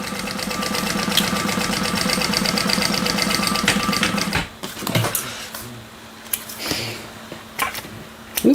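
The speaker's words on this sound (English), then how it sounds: "So I'm just going to sew right sides together with the slip pocket." A domestic sewing machine runs a steady, fast stitching buzz for about four seconds while joining the right sides of a Lyra bag slip pocket, then stops, leaving faint handling clicks and rustles.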